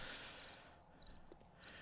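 Faint, high cricket-like chirps in the Ravenhearst video game repeat in short pulsing bursts over a soft background hiss, with no voices.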